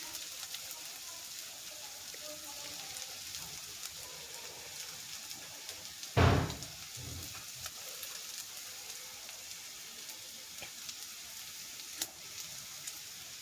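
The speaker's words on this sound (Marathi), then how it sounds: "कांदा भाजत आहे मी छान." Chopped onion sizzles in a hot pan for a stuffed capsicum masala, a steady low hiss running throughout with one brief louder crackling burst midway.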